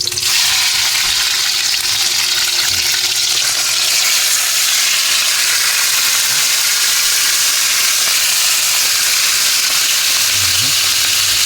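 Squid frying loudly in a pan with browned garlic, giving a dense, constant hiss of sizzling oil that stays strong and close throughout, with no talking.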